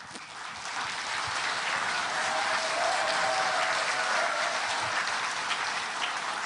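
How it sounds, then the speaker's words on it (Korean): A lecture hall audience claps steadily for several seconds, a dense, even wash of applause that builds quickly and holds at a moderate level without talk over it. "큰 박수를 좀 부탁드립니다"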